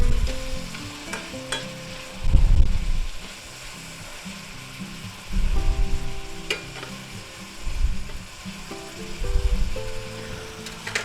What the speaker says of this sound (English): Now we'll stir that in.